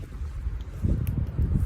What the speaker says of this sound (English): All right, super windy.